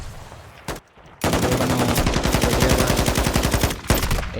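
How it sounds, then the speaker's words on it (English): Rapid LMG hip-fire bursts in Call of Duty, loud and close, with a short shot and a brief pause before a sustained stream of rhythmic automatic fire that runs to the end. "The LMG hip fire."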